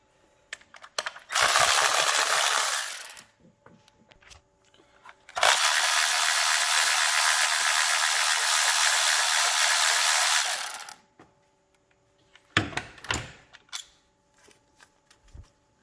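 A hand ratchet backs out the 8mm bolts holding the ignition coils on a car during a tune-up, heard close as two long bursts of rapid, even clicking, then a shorter burst and a few stray clicks.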